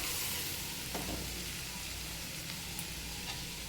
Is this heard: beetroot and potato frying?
yes